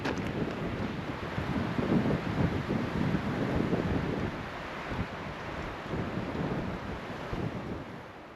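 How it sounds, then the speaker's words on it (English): Strong, gusty wind roars outdoors beside a wilderness creek in Idaho, a loud continuous buffeting rush that eases slightly toward the end. "Today, it's like crazy high winds."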